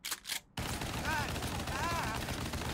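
Dense, continuous gunfire and explosions in the video game South Park: The Fractured But Whole, a loud rattling barrage that starts abruptly after a brief muffled sound and runs without pause.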